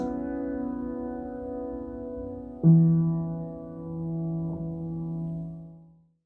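Piano playing part of the Halo 2 theme, close and soft, a held chord joined by a new low struck chord midway, then sustained notes ringing and slowly dying away into silence.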